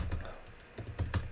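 Computer keyboard typing while a new WordPress post is written, a quick run of soft, close key clicks in an irregular rhythm at low level.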